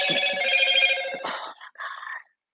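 A mobile phone rings close by, a short bright tonal ringtone that stops after about two seconds and plays alone.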